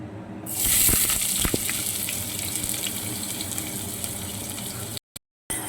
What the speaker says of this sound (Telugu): ఆనియన్స్ గోల్డెన్ బ్రౌన్ కలర్ వచ్చేంత వరకు ఫ్రై చేసుకుందాం